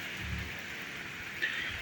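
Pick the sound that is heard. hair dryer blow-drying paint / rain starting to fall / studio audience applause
rain starting to fall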